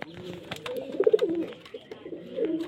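Giribaz pigeons coo close by in a loft, soft throaty rolling coos rising and falling several times, with faint background noise and a voice murmuring at a low level.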